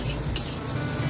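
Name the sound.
onions and tomatoes frying in a pan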